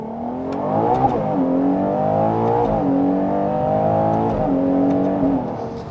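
A Ferrari Purosangue V12 SUV accelerates hard on a test drive, its engine climbing through several gears with rising pitch and quick drops at each upshift, loud and steady from inside the cabin.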